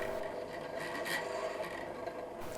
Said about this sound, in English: Now a quick deburr,